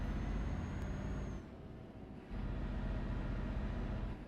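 A bus rolls by in Euro Truck Simulator 2 on Greek city streets, a loud, steady engine rumble that dips briefly and then returns. No one is talking over it.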